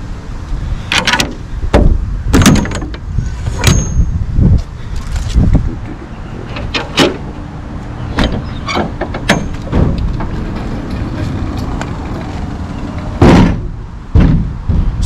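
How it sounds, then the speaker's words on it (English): A landscaping equipment trailer being opened outdoors, with loud metallic clanks, thumps and sharp latch knocks scattered irregularly over wind and background noise, close and strong. "So I'm gonna open up the trailer."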